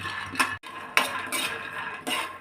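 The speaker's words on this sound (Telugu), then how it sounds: "పల్లీలను దూరగా వేయించుకోవాలి" Peanuts being roasted dry in a pan, stirred with a metal utensil that clinks and scrapes against the pan in a few separate close knocks.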